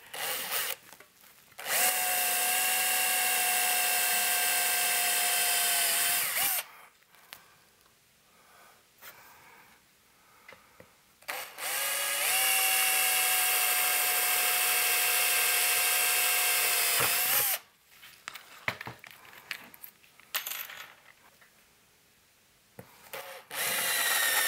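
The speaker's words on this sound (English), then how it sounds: "So let me drill these out." Power drill boring holes into a 1930s Globe tube amp chassis, two long sustained high-pitched whining runs with short pauses and handling noise between them, close and loud, with no talking.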